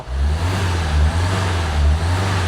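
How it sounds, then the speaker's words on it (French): A new-engined Dacia Duster, after AdBlue was put in its fuel tank, runs with a steady, loud low-pitched drone that swells slightly twice, with no talk over it. "mais le moteur, il est neuf. Bon, bah, il est neuf, ce Duster."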